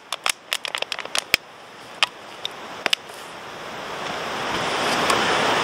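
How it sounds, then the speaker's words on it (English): Cold water is poured into a hot brew at a wild camp in wet, stormy weather, starting with a few sharp clicks and taps, then a soft hiss that swells steadily louder as the pour goes on. "Little bit of cold water because I'm a tart."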